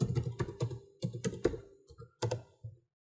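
Someone types an email and password on a computer keyboard in quick, uneven bursts of clicky keystrokes, close and fairly quiet, before the tapping stops.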